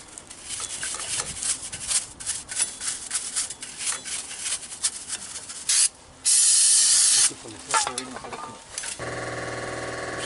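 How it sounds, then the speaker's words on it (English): Aerosol brake cleaner spraying onto a Dodge pickup's brake wheel cylinder: one long, loud, steady hiss bursts out partway through, with shorter spray sounds and clattering work noise around it. "Spray some more of this on there."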